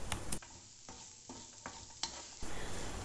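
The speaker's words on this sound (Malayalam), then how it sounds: "നന്നായിട്ട് ഇളക്കി ചേർത്ത് കൊടുക്കുക" Kashmiri chili powder and turmeric stirred through hot oil in a frying pan, a few soft scraping strokes over a faint sizzle, with brief gaps between movements.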